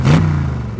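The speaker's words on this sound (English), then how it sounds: "when I drive it makes a noise, it goes like vroom" A BMW car engine revs up briefly, a loud low drone that swells at the start and then holds steady for under a second.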